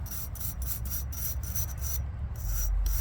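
A brush scrubs rhythmically over old radiator parts from a 1972 Chevy C10 pickup, loosened with lacquer thinner; quick, evenly spaced close strokes with a raspy texture, no talking.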